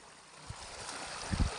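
Floodwater overflowing from a tubewell in a flooded village after rain, a steady broadband rush of running water with a few low splashing gurgles near the end.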